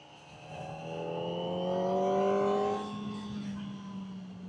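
A Kawasaki ZX-4RR sport motorcycle engine pulls as the rider accelerates, its note climbing steadily to a peak and then easing off, with a high-pitched whine heard up close and no talk over it.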